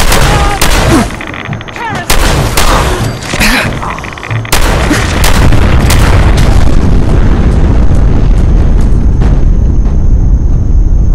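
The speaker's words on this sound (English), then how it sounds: "Lockdown complete. Commencing launch." Missile launch in the video game Fallout 4: loud booming blasts and sharp bursts in the first few seconds, then a sustained roaring explosion rumble that fills the rest of the clip.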